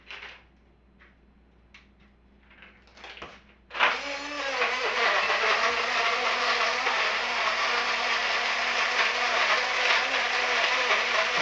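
A Type C rechargeable portable blender blends an Oreo Blizzard after a few soft clicks and handling sounds, then whirs loudly and steadily at close range for the rest of the time.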